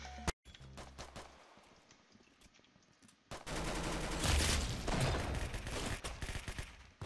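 Trench gun gunfire in the Roblox game Arsenal: a few sharp isolated shots early on, then a long sustained barrage of rapid, loud gunfire filling the second half.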